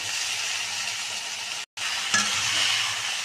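Cooked pasta is stirred in a pan with salt, soy sauce and tomato sauce, giving a steady scraping sizzle that runs nearly unbroken, with one short pause before it resumes slightly louder.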